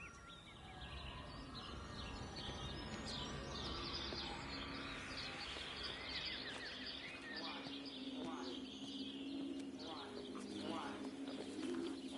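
Pigeons or doves coo amid scattered bird chirps and tweets in the game Everybody's Gone to the Rapture, a steady layered chorus over a soft ambient bed for the whole stretch.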